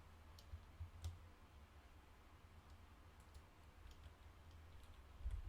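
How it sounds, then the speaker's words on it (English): Scattered clicks of computer keyboard typing, light and irregular, with a few sharper taps and a low background hum during an online game tournament stream. "you're hearing typing"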